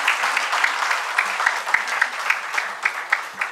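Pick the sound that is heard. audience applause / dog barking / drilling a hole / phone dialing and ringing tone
audience applause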